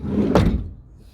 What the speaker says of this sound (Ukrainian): Дверцята закриваються.